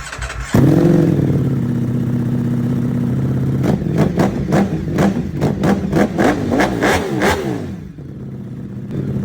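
A Bajaj Pulsar N250 motorcycle with its muffler removed starts up loud and close, idles with a raw rumble, then is blipped through a series of sharp revs before settling back toward idle.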